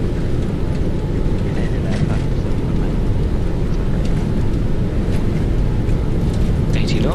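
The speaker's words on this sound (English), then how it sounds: "Takeoff power set. Watch this takeoff roll." Boeing 737-900ER rolling down the runway for takeoff in X-Plane 11, a steady loud rumbling engine roar that holds constant throughout.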